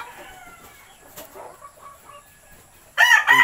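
A gamefowl broodcock rooster lets out a loud, close crow at the end, after a stretch of quiet, faint clucking.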